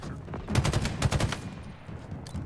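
Sniper fire in the Halo Infinite campaign on Legendary difficulty, a quick cluster of sharp gunshot cracks with low thumps, fairly faint, followed by quieter ambient game noise.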